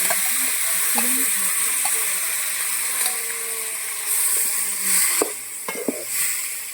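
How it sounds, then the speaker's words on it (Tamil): Chicken goes into a hot frying pan with onions, tomatoes and masala, setting off a loud, steady sizzle close by, with occasional stirring scrapes and spatula knocks. "இந்த எடுத்து வச்சுருந்தோம் அந்த சிக்கனை வந்து இதில் ஆட் பண்ணிடணும்."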